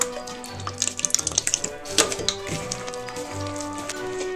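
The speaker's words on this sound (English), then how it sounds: "Now that you've added more flour, you can add your milk and get mixing" Milk poured into pancake batter in a bowl and mixed, a close liquid splashing and trickle with quick wet whisking taps in the middle, no voices.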